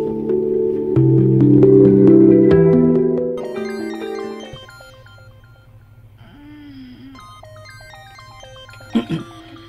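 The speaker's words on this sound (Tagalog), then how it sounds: "Kaganina pang may nagsigig panawag sa mong cellphone." A cellphone rings with a melodic electronic ringtone of stepped tones, playing over a loud musical drama score that fades midway, leaving the repeating tone pattern clear and fairly near.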